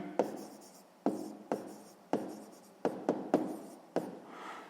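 A pen or pencil writes by hand on paper during a sixth-grade maths exercise, making a close series of short scratchy strokes in about seven quick bursts separated by brief pauses.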